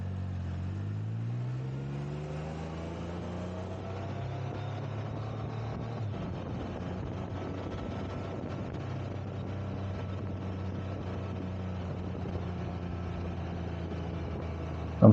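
A Can-Am Spyder three-wheeled motorcycle engine hums steadily while riding, its pitch climbing as it accelerates early on and then holding a steady cruising drone under constant wind rush.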